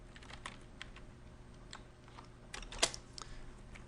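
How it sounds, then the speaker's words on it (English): Typing on a computer keyboard while entering text into a design program, with a steady run of quiet, close key clicks and one sharper, louder keystroke near the end. "we're going to take the text tool, and we're going to type"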